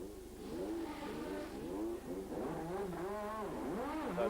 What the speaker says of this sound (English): So Senna is making his tyre stop, albeit rather late